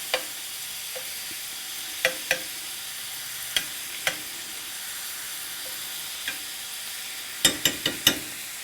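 Ground beef sizzling in a pot for hamburger soup, a soft steady fry broken by sharp scraping stirs and clinks, with a quick cluster of stirring knocks near the end.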